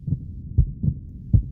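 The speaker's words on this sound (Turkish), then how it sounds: "Kalp atışları daha da hızlanmıştı." A heartbeat sound effect gives low, muffled thumps in a steady lub-dub rhythm, heard alone and close up.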